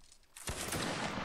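Musket volley in the Napoleonic Wars mod of Mount & Blade: Warband, a sudden loud, dense crackling burst of many shots fired together that rolls on after a quiet start.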